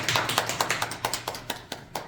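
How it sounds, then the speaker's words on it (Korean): A few people clap in an even rhythm at the close of a talk on a broadcast, roughly a dozen distinct claps over two seconds, close and fairly light. "박수 치면서 보내드리도록 하겠습니다."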